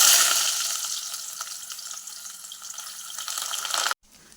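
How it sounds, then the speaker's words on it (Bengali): Coconut pieces dropped into hot oil in a kadai, a loud hissing sizzle that starts strong and slowly settles before cutting off abruptly near the end, with no voices. "তেল গরম হয়ে গেছে, নারকেলগুলো ভেজে নেবো।"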